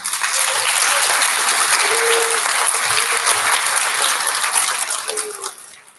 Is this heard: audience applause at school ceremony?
yes